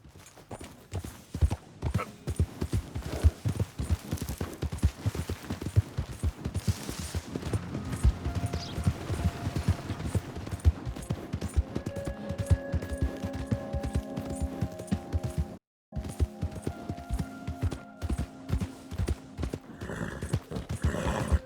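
Rapid clip-clop of horse hooves galloping close by in Red Dead Redemption 2, steady and loud, with a brief whinny and clattering game sounds layered over the running rhythm.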